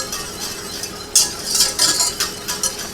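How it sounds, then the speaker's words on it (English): A whisk works through gravy in a pan on the stove, giving soft scraping stirs and a few brighter clinks against the metal, fairly close. "And whisk that."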